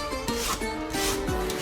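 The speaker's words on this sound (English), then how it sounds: "this allows me to get perfect strips of carrot every time, and then I cut it down to bite-sized" A small serrated kitchen gadget cuts strips of carrot, producing a close, rough rasping scrape with short squeaky tonal glides, brief and fairly quiet, no talking.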